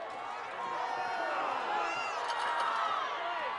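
Crowd at a high school football game, a steady roar of cheering and shouting from the stands that holds evenly throughout, with a voice talking over it.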